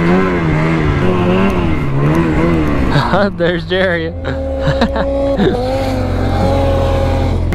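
A snowmobile engine running rough and failing to rev properly on fresh snow tracks, a loud steady drone with rising and falling pitch that runs throughout, with voices talking over it.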